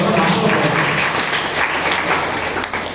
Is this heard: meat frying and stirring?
no